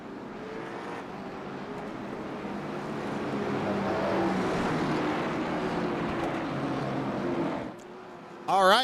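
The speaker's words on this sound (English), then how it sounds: "somebody's in there in the back there just revving the crap out of him, man" A late model race car engine revs hard at North Wilkesboro speedway, a sustained, loud roar that builds and holds for several seconds before dropping off, followed by a brief sharp rev at the end.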